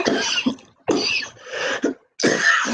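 A man who is choking on a cough drop coughs in several harsh, close bursts separated by short gaps.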